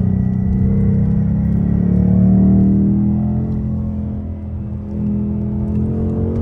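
A Ford Mustang Bullitt accelerating through a bend, its V8 giving a loud, steady, deep rumbling drone from inside the cabin that swells slightly and then eases, with no talk.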